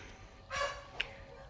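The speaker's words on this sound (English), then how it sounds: "Excuse the dogs barking." Dogs bark indoors in the background, two brief yips spaced apart, faint against a quiet backdrop.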